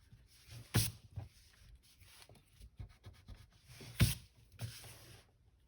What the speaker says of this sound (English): Maybe I want to erase these lines.